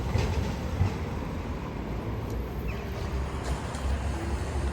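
A tram rumbles steadily close by, a continuous low mechanical drone with faint rail clatter and no talking.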